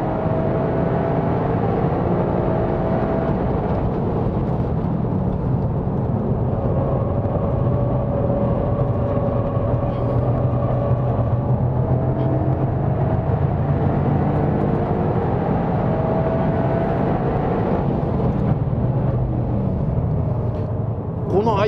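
A Toyota GRMN Yaris accelerates hard around a race circuit, its engine drone steady and close from start to finish while someone talks over it.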